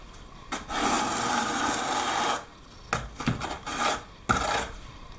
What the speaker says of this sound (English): I am actually back buttering every tile